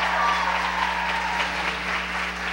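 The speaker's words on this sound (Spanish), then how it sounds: "Aplausos, por favor, las barras" Students cheer and clap at a school television program, sustained applause from a crowd with a steady electrical hum underneath, continuous and fairly loud for the whole stretch.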